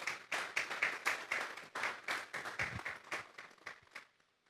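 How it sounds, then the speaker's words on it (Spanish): Church congregation clapping and applauding loudly together, a dense burst of hand claps that gradually thins and fades out near the end, with no talking. "Vamos a darle un fuerte aplauso pues al Señor."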